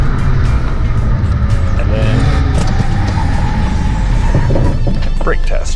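A 2021 BMW 228i xDrive accelerating hard from 0 to 60, a loud, steady engine roar with rising tone heard from inside the car, a voice speaking briefly over it.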